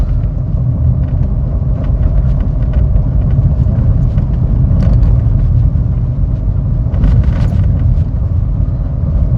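Car traffic crawling through a parking area at the Mammoth ski resort, a steady loud low engine rumble with passing vehicle swells and no clear talk.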